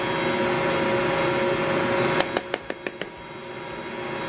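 An electric mixer whirs at a steady hum while blending Mississippi pot roast ingredients with granulated garlic, then a quick run of five or six sharp clicks sounds before the motor continues more quietly.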